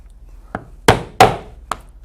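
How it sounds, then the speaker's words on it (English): Hammer strikes on a punch driving 1/8 inch holes through leather for a bag clasp: four sharp, separate knocks, two loud and two lighter, with no voices. "Next, I will punch some 1/8 inch holes"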